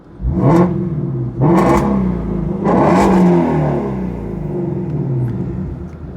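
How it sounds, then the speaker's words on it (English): A deep, throaty V8 exhaust on a Shelby GT350R with valves open, resonator delete and X-pipe, revs three times in a row, each rise snarling and falling back to a rumbling idle, loud and close. "the resonator delete and the X-pipe absolutely making this exhaust note come alive"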